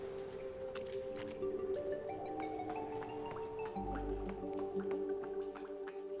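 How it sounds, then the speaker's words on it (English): Water trickling and dripping through pipes and valves in the video game Jenny LeClue, a quiet wet gurgle with dripping and rising tonal notes under soft game music, with no voice over it. "It's a valve. It controls the direction of flow of water through the pipes."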